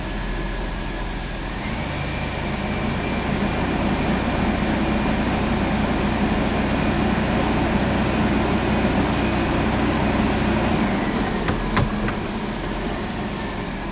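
A Chevy S10 Blazer V6 engine idles in gear, a steady low rumble with a constant drone throughout, close and fairly loud, with a faint clunk near the end and no talking.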